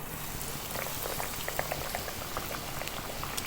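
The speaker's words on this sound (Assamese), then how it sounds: "আমি মাছ এপিচ এপিচকৈ ফ্ৰাই কৰি ল'ম" Pieces of fish frying in hot oil in a kadai, a dense continuous bubbling sizzle with scattered crackles and pops, steady and close throughout with no talking.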